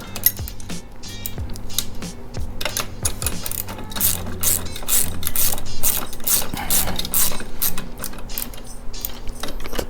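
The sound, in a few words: ratchet tightening a 13 millimeter bolt on Can-Am Ryker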